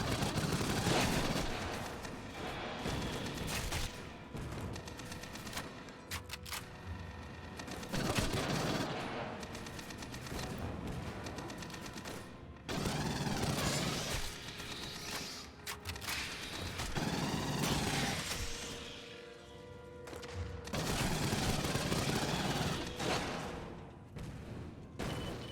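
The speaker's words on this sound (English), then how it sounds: "Time to shoot the sentry guns." Rapid bursts of automatic fire and heavy impacts from sentry gun turrets being shot in the sci-fi shooter Aliens: Fireteam Elite, loud and dense, broken by short pauses between volleys.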